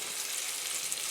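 Pork chops sizzle in a hot cast iron pan, a steady bright crackling hiss heard up close without talk.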